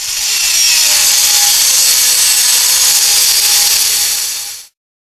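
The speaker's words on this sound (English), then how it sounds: "we're going to have to take the Dremel and try to cut it away" A Dremel rotary tool cuts through an old iron water pipe in a farmhouse, a loud, steady high-pitched grinding whine that holds for about four and a half seconds and then stops abruptly.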